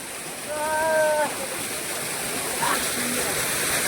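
Jakeda waterfall in Nayagarh, a steady rushing roar of falling water close by, with a brief whistle-like tone early on and faint human sounds over the flow.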